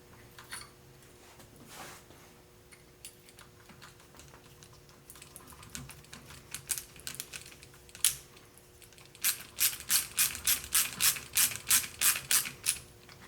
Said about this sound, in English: Putting the new countersunk screws, they look way better.